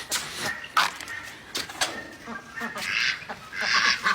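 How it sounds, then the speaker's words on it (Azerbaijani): Domestic ducks in a backyard quack in a noisy, overlapping series of nasal calls, some close and loud, rising into a busier burst near the end. "Ördəklərim nə var?"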